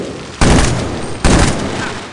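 Two loud, sharp gunshot blasts from Medal of Honor Warfighter, under a second apart, each ringing out with a long echoing tail through the campaign level.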